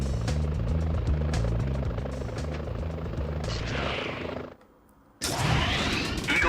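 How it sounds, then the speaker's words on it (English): Police helicopters in the Spider-Man PlayStation game: a loud, steady rotor chop pulses throughout, briefly cutting out to near silence before returning at full strength. "Whoa, police choppers."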